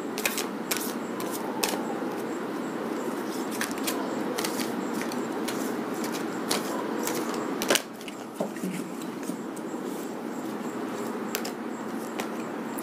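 Tarot cards being shuffled and drawn by hand, a steady run of soft papery flicks and snaps, close and fairly quiet, with a brief pause near the end before the riffling resumes.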